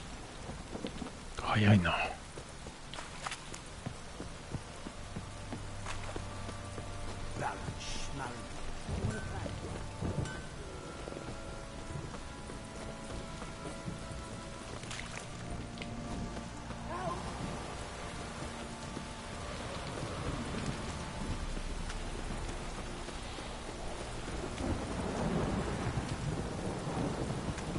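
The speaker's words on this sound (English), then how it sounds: "Downpour's a bastard, it is." Rain pours steadily in The Witcher 3: Wild Hunt with low rumbling thunder, a soft, wide storm wash that builds toward the end, broken by an early sharp sound and brief speech.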